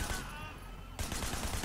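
Rapid bursts of video-game gunfire from enemies in a brawler-style level full of melee thugs, loud and dense, breaking off briefly before resuming.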